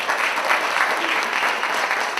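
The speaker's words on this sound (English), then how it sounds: "give yourself a round of applause for traveling near and far to be here this evening with Molly and Christopher." Wedding guests at an evening reception applaud together, a dense, loud, continuous roar of many hands clapping close by with no pauses, heard on its own.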